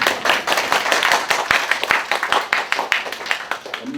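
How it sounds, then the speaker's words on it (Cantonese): Audience at a plant and depot management presentation claps for several seconds, a dense patter of many hands, fairly close and steady, with a voice briefly heard at the end. "咁俾啲掌聲先，好唔好？"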